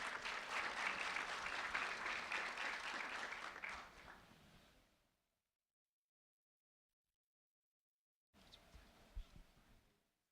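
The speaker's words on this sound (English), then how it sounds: "A round of applause for Ariana and also Kiana" Loud audience applause fills the first half, fading out into silence, then a shorter burst of clapping returns near the end.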